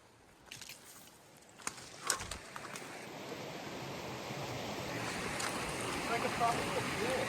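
Creek water rushes steadily along a trail crossing on the Pacific Crest Trail near Burney, building slightly louder over the span, with a few brief knocks and shouts early on over the constant broadband flow.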